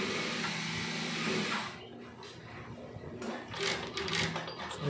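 A sewing machine runs in short bursts while backstitching a strap for a DJ controller bag, its rapid mechanical stitching whir starting and stopping at close range.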